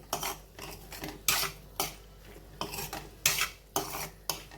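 Pasta being mixed with kasundi mustard sauce in a pan, with a spoon striking and scraping the metal in sharp rhythmic clanks about every half second over a faint sizzle.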